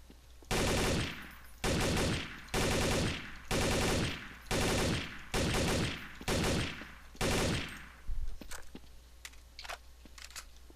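Rapid automatic gunfire from a rifle in a video game shooting range, fired in about eight short bursts of roughly one second each with brief gaps, loud and close, followed by a few scattered single shots.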